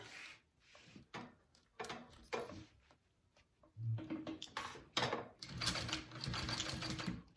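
Sewing machine basting bowler bag pattern pieces together, heard as irregular bursts of whirring stitching broken by short pauses and handling clatter, close and moderately loud.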